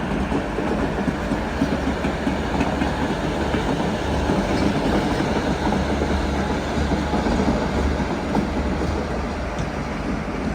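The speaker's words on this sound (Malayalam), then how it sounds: "ഇവിടെ 2-ാം നമ്പർ പ്ലാറ്റ്ഫോമിൽ ഗുരുവായൂർ ചെന്നൈ എഗ്മോർ എക്സ്പ്രസ്" The Guruvayur–Chennai Egmore Express rolls along platform 2 in a steady, loud rumble of wheels and coaches with a light rhythmic clatter of rail joints, uninterrupted and with no talking.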